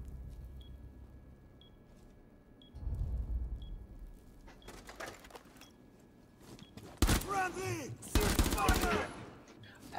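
Three-round burst gunfire in a Rainbow Six Siege multiplayer match, with a low rumble and then loud clustered bursts of rapid shots toward the end, a player talking over parts of it.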